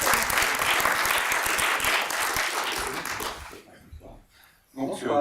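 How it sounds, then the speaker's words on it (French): A French audience at a film presentation and debate on Batman (1989) gives dense, steady applause that fades away after a few seconds. A voice then begins talking. "vous pouvez les applaudir"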